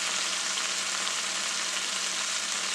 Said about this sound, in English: Sizzle that for a minute